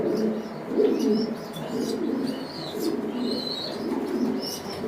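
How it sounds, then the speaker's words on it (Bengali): Racing pigeons coo softly and repeatedly while feeding their chicks in a loft, with low murmuring coos and a few faint chirps over a steady background hum. "এই বন্ধুরা দেখেন কবুতরটা বাচ্চারা খাওয়ানোর চেষ্টা করতেছিল"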